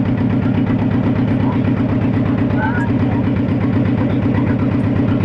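A boat engine chugs steadily on the Ichamati river near Taki Rajbari ghat, a loud, close, rhythmic throb that holds constant through the stretch.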